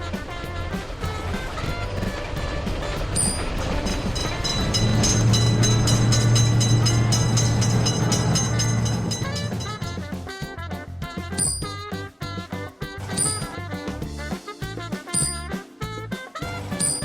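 A train rumbles through a road level crossing, a long steady roar swelling mid-pass, then giving way to rapid clattering wheel beats on the rails as the cars go by; close and loud, with no talk.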